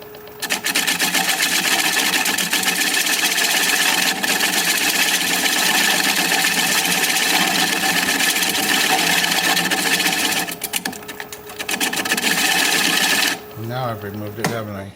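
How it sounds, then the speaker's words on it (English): Wood lathe turning a cedar bowl from a burned stump at about 500 rpm, a steady loud whirring hum throughout that drops off near the end. "Pick up the speed here a little bit."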